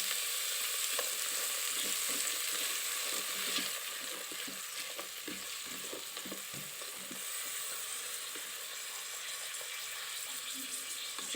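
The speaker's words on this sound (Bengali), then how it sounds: "পেঁয়াজ রসুন একটু ভাজা হলে" Onion and garlic fry inside a rice cooker, making a continuous, even sizzle with soft stirring taps, at low to moderate volume, with no voices over it.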